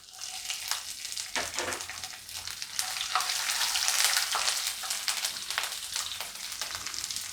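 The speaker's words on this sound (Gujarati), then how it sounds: "હવે આપણે એમાં મરચાં નાખી દઉં લીલા" Green chilies hit hot oil in a pan for Indori poha, giving a bright, crackling sizzle that swells and stays steady with occasional stirring scrapes, close and loud, with no talk.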